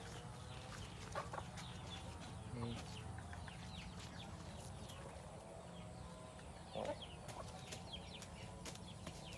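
Rhode Island chickens feeding give occasional soft clucks, faint and scattered over a low background, while a person speaks nearby.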